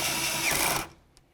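A power drill whirs steadily while running a mounting bolt tight inside a 2002-2006 Honda CR-V door, then cuts off abruptly, followed by a brief faint click.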